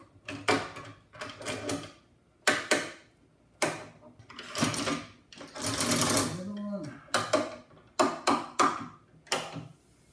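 Metal track saw clamps slide along the aluminum track's dovetail slot, making a series of close, sharp clicks, rattles and scraping slides in separate bursts with short pauses between them.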